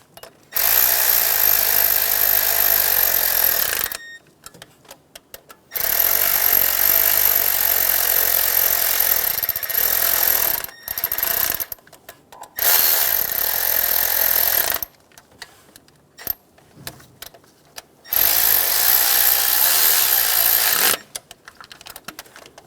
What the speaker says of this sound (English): Snug down the bolts.